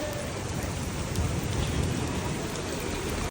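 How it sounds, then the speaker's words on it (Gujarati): Steady, dense rain pouring down outdoors as people set off home by car, a continuous loud wash of drops with no talk. "વરસાદ ચાલુ થઈ ગયો છે"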